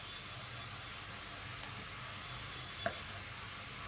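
Hing and spices tempering in hot oil for a muli ka saag, a steady faint sizzle and splutter with one sharp pop near the end.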